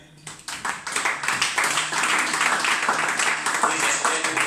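A church congregation bursts into applause during a service, scattered claps quickly swelling into dense, loud, sustained clapping with some voices mixed in.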